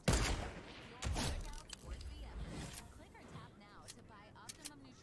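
Gunfire in the Fortnite video game sounds as quick bursts of shots, loudest in the first seconds, with a few sharp pops later. The shots are fairly faint and mixed under excited talking.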